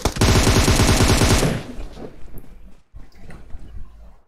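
A loud, close burst of rapid automatic gunfire in PUBG Mobile that rattles on for about a second and a half, then cuts off into quieter game noise.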